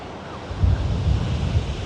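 Sea surf rolling in at the Blackpool seafront, a steady low roar of breaking waves with gusts of wind buffeting the microphone, swelling slightly midway and staying close and continuous throughout.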